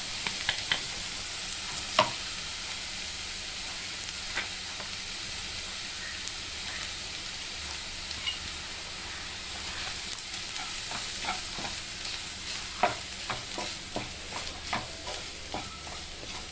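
Ground spice paste stirred and sautéed in a pan after lightly browned onions, a steady soft sizzle with occasional scraping and stirring clicks throughout, no voices.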